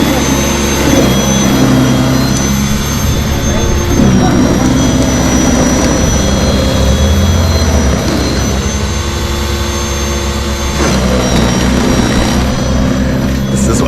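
A WORX 20-inch cordless electric snowblower runs steadily on a driveway, a loud continuous motor whine and drone holding throughout with people talking over it.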